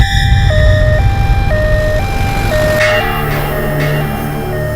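An ambulance siren wails in a loud two-tone pattern, alternating steadily between high and low pitches, close and continuous with road noise beneath.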